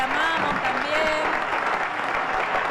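Sustained applause from an audience on a live Argentine variety stream, steady dense clapping filling the whole stretch at moderate loudness.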